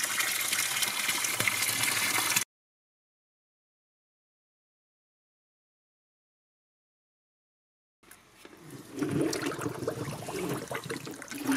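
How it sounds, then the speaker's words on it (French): Rainwater from gutters is pumped by a submersible clear-water pump into a reservoir tank, heard as a gushing pour at the start, then a gap of silence, then the flow resuming. "je vais remplir le réservoir d'eau"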